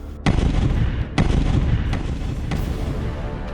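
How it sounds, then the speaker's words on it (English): Wartime artillery barrage near Stalingrad, 1942: several heavy, booming blasts strike in quick succession, about four in all, each with a sharp crack and a long rumbling tail that keeps the low roar going between impacts. "we were hit by a devastating barrage of artillery fire, the blast reverberating all along our positions"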